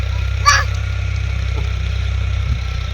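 A tractor engine idles steadily at a low, even pitch throughout a village setting in Pakistan, with a brief faint clatter near the start and another soft knock later.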